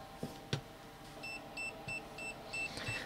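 A Kaiweets HT100s voltage detector at 1000 volts gives a string of short, faint electronic beeps at an even pace, with a few soft knocks and handling thumps mixed in.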